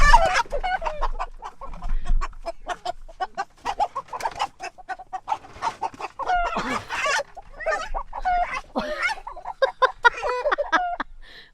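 An escaped, very active young rooster on a pastured poultry farm, clucking and squawking in quick irregular bursts, close and fairly loud, with a few crow-like calls mixed in.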